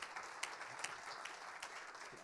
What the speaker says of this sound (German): Hey, gebt ihnen nochmal einen Applaus.